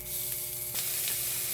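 Longganisa sausage sautéing in a pan makes a steady, close, loud sizzle throughout, with faint stirring scrapes.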